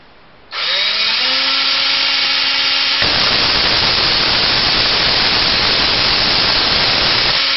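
Tesla hairpin circuit spark gap arcing, starting after a brief quiet moment as a loud, harsh, buzzing roar with a rising whine that turns into steady, intense static-like crackle.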